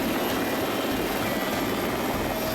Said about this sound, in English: Training with the helicopter is a highlight for all volunteers.